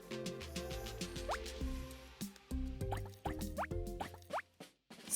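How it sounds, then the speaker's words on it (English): Drops of food coloring falling into a bowl of oil make a series of soft, bubbly plops and bloops at an irregular pace, heard close over a steady tonal background. "Add 4 or 5 drops of food coloring to the oil."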